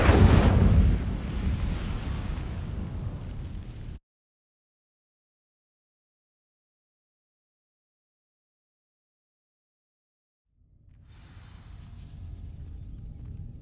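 An Incendio fire spell in Hogwarts Legacy ignites dry vines with a loud roaring whoosh that cuts off abruptly into silence, then a lower burning rumble swells back in.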